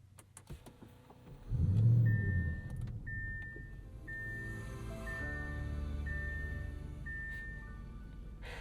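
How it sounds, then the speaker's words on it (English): A 2025 Audi RS6 Avant twin-turbo V8 cranks and fires up close by with a deep burst that settles into a steady low idle, accompanied by repeated electronic chime tones from the cabin. "and then we'll start the car"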